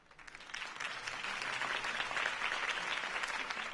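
A large crowd in the video game Batman: The Telltale Series applauds and cheers steadily after a campaign speech, the clapping swelling quickly and holding as a dense, continuous roar.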